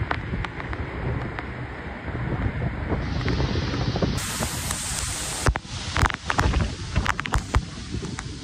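Madhe Ghat waterfall pours in a steady rushing roar amid rain and fog, with wind buffeting the microphone and occasional louder splashy bursts near the end.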